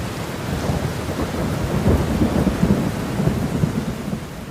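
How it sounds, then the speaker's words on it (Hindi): Thunderstorm with a rolling rumble of thunder and steady rain, serving as the sound of a fierce storm that sends huge sea waves onto coastal villages; a continuous, loud, enveloping roar with no voices. "लेकिन एक दिन भयंकर तूफान आया और समुद्र की बड़ी लहरों ने किनारे बसे गांवों को तबाह कर दिया।"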